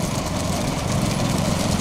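A steady tractor engine drones throughout, a constant low rumbling hum with no pauses or changes in pace.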